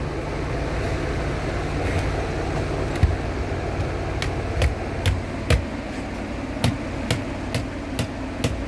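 Sharp metallic hammer taps ring out as a borate rod is driven into a log, scattered at first then in a quicker series, over a constant low mechanical hum.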